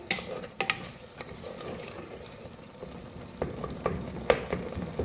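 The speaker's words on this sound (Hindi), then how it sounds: "अब मीडियम फ्लेम पर भूनेंगे अच्छी तरह से" Minced meat sizzles in hot oil over a medium flame while a spoon scrapes and stirs the pan with intermittent clinks, close and moderately loud, with no talking.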